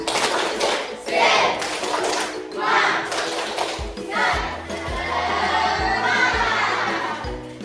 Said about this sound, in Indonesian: ayo kita dulu tepuk semangat.